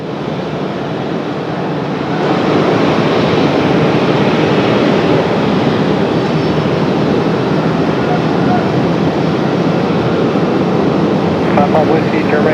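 Lufthansa airliner at Raleigh-Durham International Airport, departing for Frankfurt, a steady broadband jet roar that swells after a couple of seconds and holds loud and continuous.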